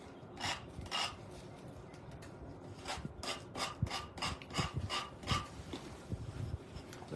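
Rhythmic rasping strokes of sandpaper rub against a wooden cigar box, about a dozen close, scratchy passes with brief pauses between.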